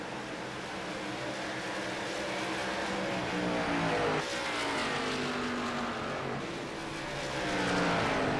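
Race cars at Pocono in a stock car series, a dense, steady roar of many engines accelerating together around the track, loud and sustained with a car sweeping by midway.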